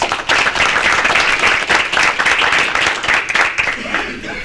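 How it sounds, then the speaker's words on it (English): Participants at a community meeting on education equality in North Hartford schools give a loud, sustained round of applause, dense clapping close by with no talking over it. "Let's give yourselves a round of applause."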